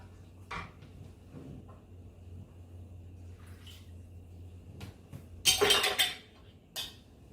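Bean and butternut squash chili being stirred in a pot, with soft scraping and clinks of a spoon against the pot, then a louder burst of clattering near the end before a final knock.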